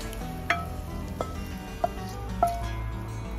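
Chicken sizzles and gets stirred in a hot pan with soy sauce and ketchup, a steady frying hiss broken by a few scraping, clinking knocks of the spatula against the pan.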